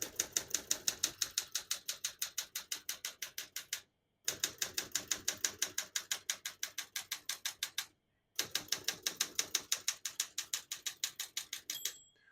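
Steady, rapid keystrokes on a 1968 Olympia SM9 portable typewriter clacking in quick runs, broken by two brief pauses, close and crisp with a small margin-bell ding near the end.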